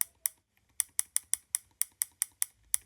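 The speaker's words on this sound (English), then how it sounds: "you can hear my sound that I'm using for, you know, the volume buttons" Custom click sounds from a Steam Deck OLED's volume buttons, set through an Audio Loader plugin with a tactile UI sound pack, a quick series of a dozen crisp, bright ticks in an irregular rhythm, close and faint with no voices.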